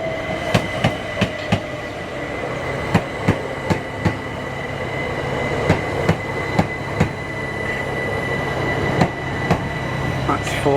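A train rolls past at Ford railway station with rhythmic clickety-clack of wheels over rail joints, loud and close, accompanied by a steady rumbling hum.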